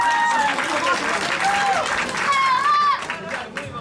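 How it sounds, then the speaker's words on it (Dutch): A crowd at a kickboxing fight event applauds and shouts for both fighters, a steady noisy wash with whistles and cheers rising over it before it tapers off. "Dames en heren, mag ik een groot applaus voor beide vechters"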